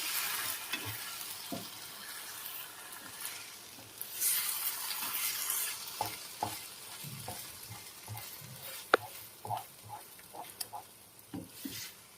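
A tuna and egg mixture gets stirred in a frying pan, a soft continuous sizzle under repeated scrapes and taps of the spoon, close and fairly quiet, with no speech.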